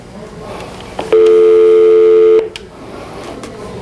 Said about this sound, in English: So obviously I can take the speaker, take a line, make a call.